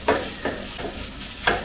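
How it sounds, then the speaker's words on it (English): Minced pork sizzling and crackling in a wok while being stir-fried for Sichuan ants-climbing-a-tree glass noodles, with three or four bursts of stirring and hiss over a steady frying crackle, close and moderately loud. "the sizzling sound of the pork during stir frying, very tempting"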